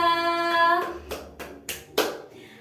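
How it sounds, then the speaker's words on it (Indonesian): A few sparse hand claps in a classroom, about four separate sharp claps in loose rhythm following a short burst of voice. "Beri tepuk tangan untuk Dinda."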